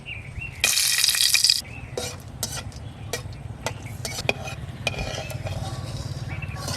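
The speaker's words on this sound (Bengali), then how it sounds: "শুকনো মরিচ ভেজে নিচ্ছি" Dried chillies fry in mustard oil with a steady sizzle and a loud burst of crackling early on, followed by scattered clinks and scrapes of a utensil against the pan.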